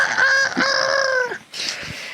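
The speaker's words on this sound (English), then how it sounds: "We hear a rooster crowing, so it's morning." A rooster crows once in a long, drawn-out call during a morning scene in a TV drama, followed by softer clucking. It sounds fairly close and clear, with no voices over it.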